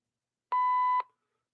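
A single clean electronic chime tone played as a sound effect on a late-night show, about half a second long, clear and isolated against silence with a short fade.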